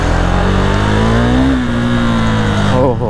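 A motorcycle engine runs steadily after a breakdown repair, a loud, even drone held for about three seconds with slight pitch shifts, close to the rider.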